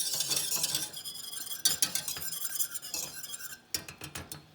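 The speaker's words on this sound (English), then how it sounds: "I'm gonna give it a little toss with my whisk." Metal whisk scraping and clinking around a pot of melted sugar mixture for cheesecake, in quick, uneven strokes with brief pauses, fairly quiet and close with no voices.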